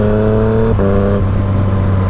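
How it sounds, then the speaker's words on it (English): Yamaha FZ-09 motorcycle accelerating hard, a loud close engine drone rising in pitch with a quick-shifter upshift cutting in sharply, then pulling on steadily. "clutchless upshifts, it's just so satisfying to clunk it into gear"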